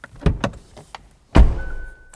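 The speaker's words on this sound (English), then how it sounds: "Let's close this door and listen to the quality." A 2022 Hyundai Tucson Hybrid front door shuts with one solid, close thunk, preceded by a few lighter knocks and handle clicks, then a faint hum afterward.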